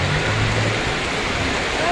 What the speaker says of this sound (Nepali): यहाँनिर नालीलाई पनि पानी भरिएर त्यसरी बगिरहेको छ।